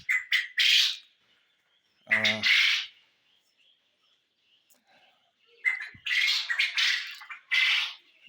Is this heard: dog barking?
no